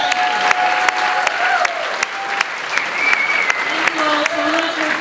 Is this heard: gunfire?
no